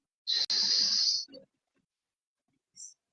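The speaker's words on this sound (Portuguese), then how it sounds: "inspira em 4 tempos, segura em 4, solta em 5, 6" A slow breathing exercise: one long, close, hissing breath, then a short breathy puff, a silent pause and a final brief soft exhale, with no speech.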